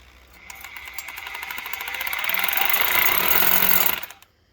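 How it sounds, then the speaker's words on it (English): A power drill boring a 3/8-inch hole through a deck joist during a deck and stair build, a steady loud whine that builds over a few seconds and then cuts off. "Now I'll let him drill that. It's going to be a 3/8."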